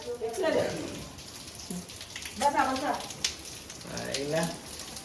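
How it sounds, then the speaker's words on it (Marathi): Steady rain patter falls throughout while people talk over it in several bursts. "काय पाऊस आलाय"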